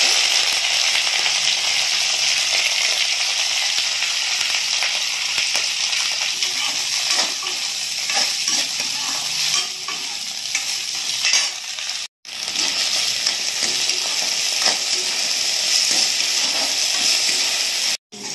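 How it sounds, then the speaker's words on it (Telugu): Ingredients for a pickle frying in hot cold-pressed oil, a loud, dense, steady sizzle and crackle close up, unbroken except for one brief cut, with no talking. "నూనె వేడెక్కాక వేసుకోండి."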